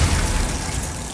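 Glacius ice spell in Hogwarts Legacy, a sudden heavy burst of hissing, crackling noise with a low thump, loud and sustained briefly before easing slightly, with no voices present.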